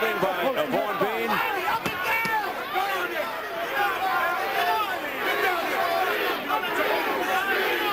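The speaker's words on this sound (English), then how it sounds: "listen to this crowd turning. That's not Holyfield they're chanting, that's Bean." A boxing arena crowd in round 10 of the Evander Holyfield versus Vaughn Bean fight chants and roars in loud rhythmic waves, with a commentator speaking over the noise.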